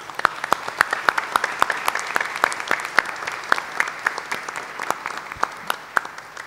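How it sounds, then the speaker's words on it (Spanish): A church congregation at a Sunday Lenten Mass claps for a prayer retreat group, brisk scattered applause with sharp individual claps standing out over the rest. "Y un aplauso por ellos."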